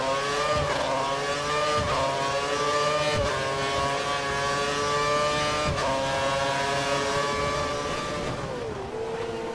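Mercedes and Ferrari racing cars at a Japan race meeting, their engines holding a loud, sustained high-pitched wail close by with gear changes and brief dips in pitch, the whine continuing without pause.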